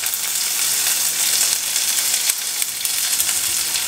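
Curry leaves and shallots sizzle loudly in a hot pan, a dense close crackling hiss that runs unbroken for a few seconds with small spattering bursts.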